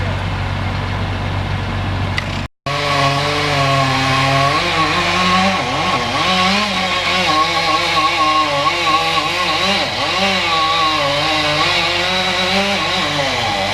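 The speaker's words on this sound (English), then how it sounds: "Look at the size of that chainsaw." A large chainsaw runs loud and close during the removal of a big tree, with its steady engine drone and wavering pitch as the saw works through the wood, broken by a brief silent gap early on.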